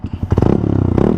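A Yamaha R15 V3 motorcycle fitted with a Ronin Hanzo exhaust in street mode gives a brief, throaty rev close by, a rapid pulsing rumble that swells quickly.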